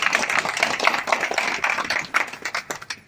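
A crowd at a PACL India payment meeting claps hands, a dense patter of many claps spread evenly through the clip, steady and fairly loud with no talk over it.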